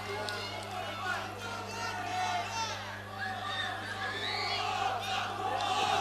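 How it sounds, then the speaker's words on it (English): Fight crowd at a UFA mixed martial arts event roaring and yelling in a sustained, dense wall of cheers and shouts, with a commentator's voice partly audible underneath. "The crowd going absolutely nuts."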